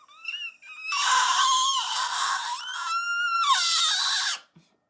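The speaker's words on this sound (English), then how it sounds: "That is a whistle scream." A high, piercing whistle-like scream from a female vocalist in a song slides and wavers in pitch, sustained over several seconds with breathy rasp, loud and alone before cutting off.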